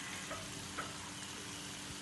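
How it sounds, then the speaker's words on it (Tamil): Dried shrimp (kooni) frying in a pan for a bilimbi fruit curry, a steady soft sizzle that holds even and continuous throughout with no voices. "சேர்த்து நல்லா வறுத்து விடுங்க."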